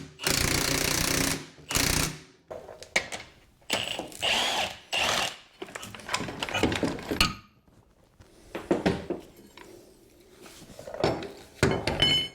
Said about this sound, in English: Now we can compress the spring.